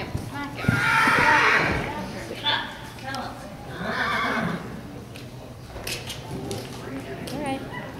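A horse whinnies and neighs loudly while being ridden at a hard gallop, with hoofbeats thudding underneath. A rider's voice calls out intermittently over the outdoor ambience.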